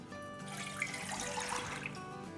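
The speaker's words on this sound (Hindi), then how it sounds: "और इसमें भी डाल देंगे 4 कप पानी" Four cups of water are poured into a large cooking pot for gulab jamun sugar syrup, a close splashing, gurgling stream that swells and then tapers off.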